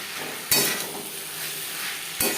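Potatoes tossed with onion and tomato in a hot frying pan, giving a steady loud sizzle with scraping stir strokes and two sharp bursts as the pieces are turned.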